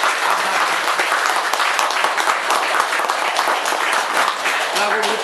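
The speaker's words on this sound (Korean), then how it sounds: "뜨거운 박수로" Campaign committee members at a party event give warm, steady applause welcoming a candidate, a dense wash of many hands clapping continuously and loudly throughout, with a voice faintly beneath.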